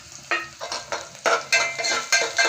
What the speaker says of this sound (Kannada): ಎಣ್ಣೆ ಕಾಯ್ದಿದೆ. ಫಸ್ಟು ಸಾಸಿವೆ ಹಾಕೋಣ.